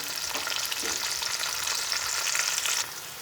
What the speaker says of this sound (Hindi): प्याज हमारे हल्के फ्राई हो चुके हैं